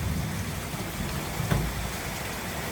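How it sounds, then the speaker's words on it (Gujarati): Heavy monsoon rain in Surat pours in a dense, steady hiss, with a brief low rumble partway through, and no voices over it. "સુરતમાં કેટલો વરસાદ છે"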